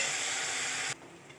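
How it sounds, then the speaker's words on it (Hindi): Chopped tomatoes fry with onions in a pan, giving a loud steady sizzle and hiss that suddenly drops to a much quieter background after about one second. "हम टमाटरों को अच्छी तरह पकाएंगे।"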